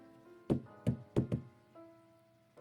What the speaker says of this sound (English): She knocked not once but twice, and the door slowly creaked open.